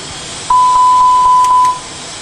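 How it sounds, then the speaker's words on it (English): Airbus A320 cockpit warning tone in a flight simulator during an emergency ditching procedure: a single steady electronic beep holding for about a second and a half, clear and close, over faint background hum. "Again, we receive a lot of warnings."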